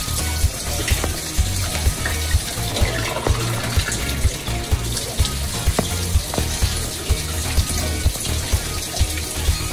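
Mountain spring water pours steadily in a continuous splashing stream at a village fountain in Athanasios Diakos in the mountains of Fokida, with rhythmic gurgling pulses as it fills a glass.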